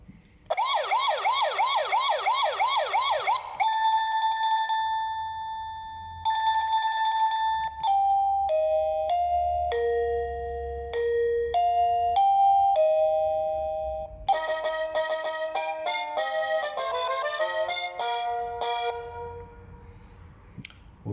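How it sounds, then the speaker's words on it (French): A Govee wireless doorbell chime cycles through several different ringtones: loud, clear electronic tone melodies and ding-dong patterns, one after another with brief pauses between them and no talking. "on va changer les sonnettes, on va voir. Les différentes sonneries, pardon."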